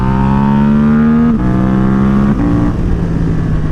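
A Suzuki GSX-8R motorcycle with a full aftermarket exhaust revs loudly near 6000 RPM, its droning exhaust note rising and dipping through quick-shifted gear changes, close and without talk.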